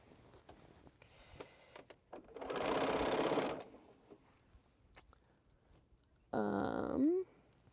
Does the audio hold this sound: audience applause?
no